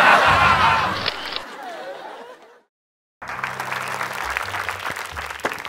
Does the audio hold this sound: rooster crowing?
no